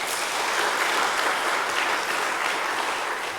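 Hospital staff gathered in a chapel for a morning retreat service applaud a pastor in thanks: a thick, even wash of many hands clapping together, sustained and moderately loud, with no talk over it.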